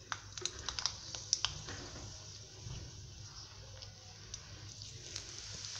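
Cumin and mustard seeds sizzle in hot oil with curry leaves, giving a steady close crackle with sharp pops clustered near the start.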